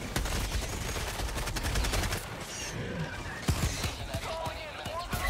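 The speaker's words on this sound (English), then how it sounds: "Oh, the pistol isn't gonna work good!" Rapid gunfire rattles through a Helldivers 2 bug nest fight, sharp repeated shots and crashes over a busy battle din, loud and close, with pistol fire among the bursts.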